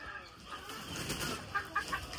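Chickens in a coop give soft, fairly faint clucks and brief stirring and rustling, with a few sharper clucks near the end over low background noise.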